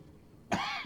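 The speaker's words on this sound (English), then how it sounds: "More coughing." A man coughs once, sharply and close up, at about the midpoint; a short raspy tail follows and there is near-silence beforehand.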